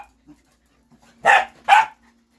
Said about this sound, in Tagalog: Goku, huwag masyadong maingay, Goku